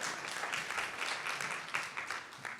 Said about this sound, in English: You can clap for the sisterly affection part.